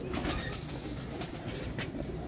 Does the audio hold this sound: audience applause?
no